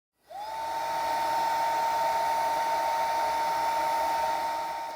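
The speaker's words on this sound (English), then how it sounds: "I would suggest we briefly conduct a sound check to see how many decibels this small blower produces in both stage 1 and stage 2" A Makita 18V cordless heat gun, model DHG181, blows on its first stage about a meter away, starting abruptly and holding a steady whooshing whine with a faint tone until the end, with no talking.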